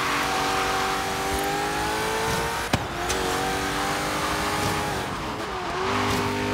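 Cars race laps around a circuit in Forza Horizon 3, with a steady, loud engine drone that rises and falls through gear changes, tire squeal and a sharp knock partway through.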